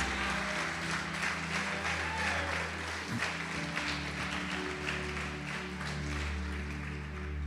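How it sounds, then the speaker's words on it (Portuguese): A church congregation claps together during a sermon, a continuous spread of clapping over a steady low hum and sustained music tones. "Pode aplaudir, glorificar Jesus por isso."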